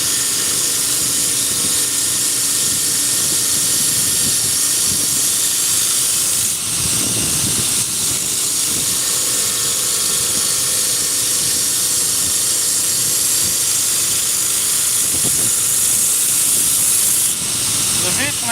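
A belt grinder grinds a knife blade for knife making, giving a loud, steady hiss that runs unbroken for the whole stretch, with slight swells where the blade presses harder against the belt.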